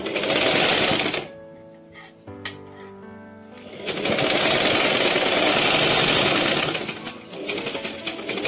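A sewing machine stitches an umbrella frock in loud, rapid mechanical bursts that pause briefly, during which softer tapping and handling noises are heard, before the stitching resumes at full speed.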